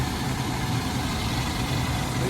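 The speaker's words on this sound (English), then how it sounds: "Just fired it up. It's cold." Cold 1980 Chrysler Cordoba engine idling with a one-barrel carburetor and no choke, a steady close rumble holding even throughout with no talk over it.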